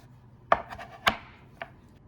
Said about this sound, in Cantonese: 我哋將佢切細塊。